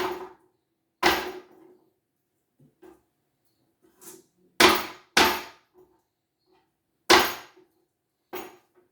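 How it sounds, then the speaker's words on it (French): A shellfish hammer strikes a cutting board in a kitchen, giving about eight sharp, loud knocks at irregular intervals with short ringing tails and silence between them. "Un coup de marteau sur la planche à découper."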